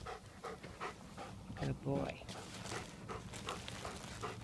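A dog pants in short rapid breaths close by during outdoor tracking work, while a person speaks over it and footsteps move through grass.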